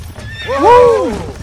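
A single loud horse whinny in Red Dead Redemption, rising then falling over about a second, with faint hoof clatter beneath.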